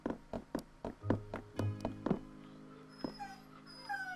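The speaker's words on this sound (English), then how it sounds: "my doggie is even starting to whine now" A pet dog whines in a series of short, high whimpers and soft yips, about ten quick cries in a steady rhythm followed by a few longer, thin whines, fairly faint and close, with no talk.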